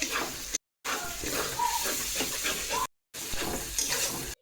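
Egg and potato fry in a pan, a steady sizzle with scraping and stirring noises throughout, broken by two brief gaps of silence.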